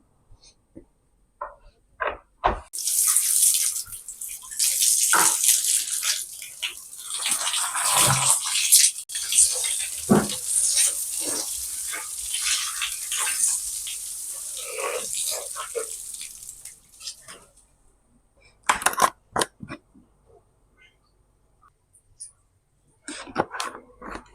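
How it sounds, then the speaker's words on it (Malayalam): Water poured and splashing while a floor area is washed down with Dettol, a steady rushing pour for most of the stretch, then scattered splashes and handling noises. "ഇച്ചിരി ഡെറ്റോൾ ഒഴിച്ച് വെള്ളം ഒഴിച്ച് കഴുകി ഇടണം"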